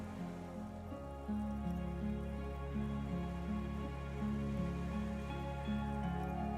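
Steady rain patters in the Disco Elysium video game as a soft, continuous wash beneath a louder, sustained musical score.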